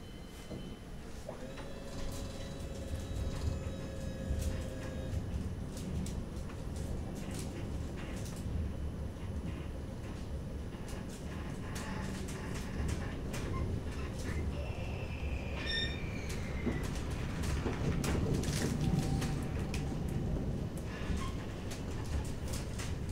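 A CAF Urbos 3 tram on the West Midlands Metro pulls away, with a steady rumble and rising motor whine over about twenty seconds, plus faint squeals and chimes near the middle.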